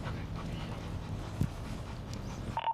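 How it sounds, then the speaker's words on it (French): A police dog pants with quick, soft breaths over steady background noise, ending in a brief sharper sound. "la recherche continue là-bas, avec le chien policier Bobby."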